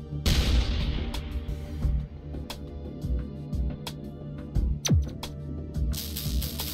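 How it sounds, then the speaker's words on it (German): Shots in the artillery game Shellshock Live: a burst of blasts at the start, then a string of sharp, separate impacts, with a falling whistle around the middle before a further thud and a final rumbling burst. "Okay, das war ein interessanter Schuss."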